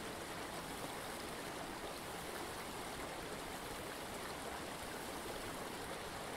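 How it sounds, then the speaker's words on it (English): A crisp stream bubbles below a rock on a remote Scottish river, a steady, soft, even rush of water with no pauses or voices. "bubbling blue water below"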